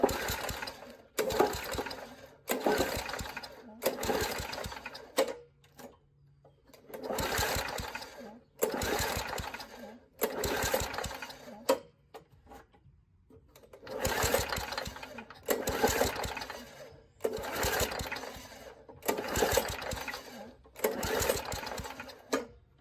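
Old Murray push mower with a 3.5hp Tecumseh engine running rough with a suspect carburetor, surging in long loud bursts broken by sudden drop-outs and brief quiet gaps, close up.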